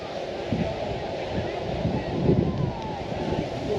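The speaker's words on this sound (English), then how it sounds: "And there's the ocean." Ocean surf and wind at Indian Rocks Beach, a continuous low roar of waves washing in with gusty wind buffeting the microphone, steady and fairly loud throughout.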